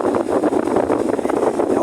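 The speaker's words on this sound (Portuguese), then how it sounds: "é o vento. Tá muito vento aqui." Strong wind buffeting the microphone on a beach in San Francisco, California, a loud continuous roaring rumble with gusty fluctuations and no talk.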